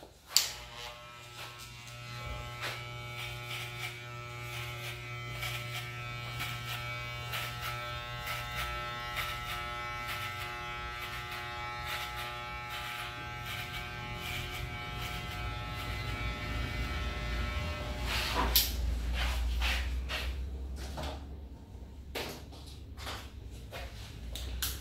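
Electric hair clippers fitted with a number 4 guard comb cutting hair for a fade, a steady close buzzing hum broken by repeated soft strokes and clicks, with a brief louder scrape near the end.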